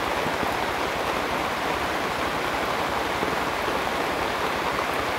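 Steady rain pours down under banana trees, a dense continuous hiss and patter that stays loud and even throughout, with no voices.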